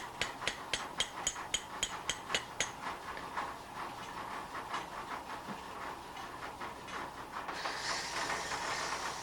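A hammer strikes the back bevel of a very thin blade in a steady series of sharp, ringing metallic taps, evenly spaced and fading into quieter blows over a background hiss.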